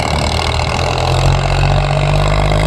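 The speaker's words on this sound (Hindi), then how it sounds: "ये फार्म ट्रक 45 आ गया है भाई" A Farmtrac 45 tractor with its fuel and throttle opened up and no turbo runs loud and close, a steady low diesel drone with a faint rise in pitch partway through.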